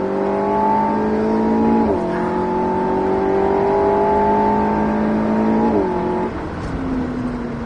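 An Alpine A110S pulls hard on the Circuit du Var, its engine note climbing steadily under full throttle, dropping briefly at two upshifts, then easing off near the end, heard loud from inside the car.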